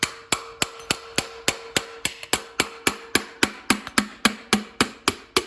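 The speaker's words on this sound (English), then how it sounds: "So how can you tell it's coming off, Sterling? Because you hear it getting hollow" A hammer knocks repeatedly on a water pump sealed with gasket maker on an RB20 engine, giving about twenty sharp, evenly spaced metallic blows that turn more hollow toward the end.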